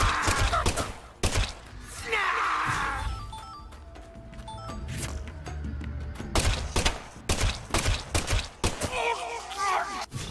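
Gunfire in the survival horror game Deadly Premonition 2, a string of sharp shots and impacts, some in quick bursts, mixed with game effects, music and occasional voices.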